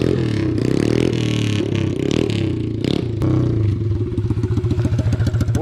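A Chinese pit bike rides a trail with a buzzy single-cylinder engine revving up and down, rising pitch as it accelerates, with clattering and scraping from the bike over rough ground, close and loud throughout.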